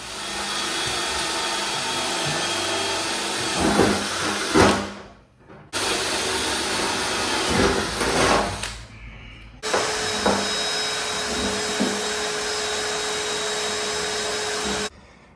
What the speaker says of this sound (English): now that the tank is vacuumed out for the 77th time